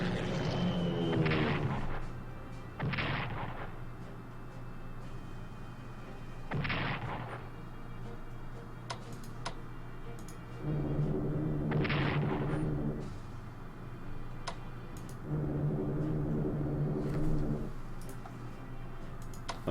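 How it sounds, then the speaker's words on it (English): Bombing runs in the strategy game Strategic Command: World at War, heavy booming artillery-like blasts landing in separate bursts, several loud impacts spaced a few seconds apart with rumbling tails and sparse ticking between them. "Let's start bombing them."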